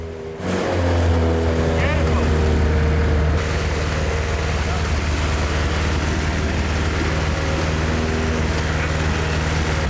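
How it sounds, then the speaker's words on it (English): A restored fire engine's pump engine starts up and then runs at a steady, loud, continuous drone, with a constant low mechanical hum and no pauses. "The engine's working and the dials show the pump's vacuum and pressure systems are functioning normally."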